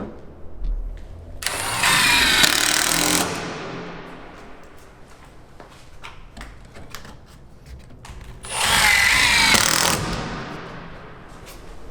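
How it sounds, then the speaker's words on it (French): A power drill drives screws through a wooden board into the frame of a timber chalet, two loud whirring bursts of a couple of seconds each separated by quieter workshop background. "je viens visser cette planche sur le cadre et non pas sur le mur"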